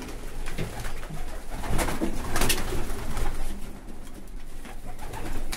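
Pigeons coo steadily inside a pigeon loft, with soft overlapping calls and faint rustling, and short louder bursts of wing or bird activity near the middle. The sound is close and fairly loud, and no one speaks.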